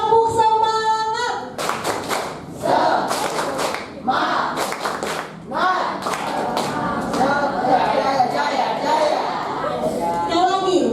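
A group claps together in quick rhythmic bursts, with loud excited voices and shouting filling the gaps between rounds.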